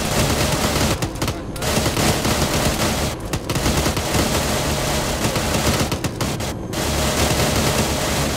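Enemy machine gunner firing in ArmA 3, a dense, loud, nearly continuous roar of automatic gunfire with brief dips in intensity across the whole stretch.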